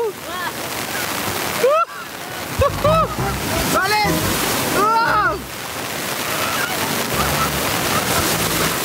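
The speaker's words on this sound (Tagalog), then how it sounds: "Lakas ng alon, men." Strong ocean waves crash and splash close by in a continuous heavy wash, while excited voices shout and exclaim over the surf throughout.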